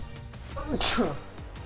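A single sneeze bursts out sharply in a classroom-style setting, set against a steady noisy background with faint voices around it.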